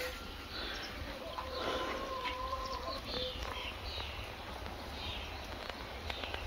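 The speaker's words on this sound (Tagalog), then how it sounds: "Tapos, daming tunog ng ibon ba?" Birds calling in a fruit garden with peach trees and onions, a rooster-like crow and clucking fowl among scattered chirps over a steady rain-like hiss, with faint voices in the background.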